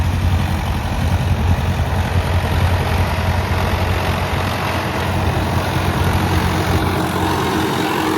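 An old tractor with a badly worn clutch plate chugs along in third low gear, its engine rumbling low and steady up close for the whole stretch, with no talk over it.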